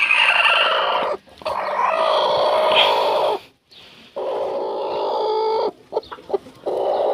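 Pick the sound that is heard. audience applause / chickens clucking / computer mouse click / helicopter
chickens clucking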